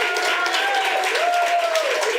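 Audience applause at a book press reception, steady dense clapping throughout with voices talking over it.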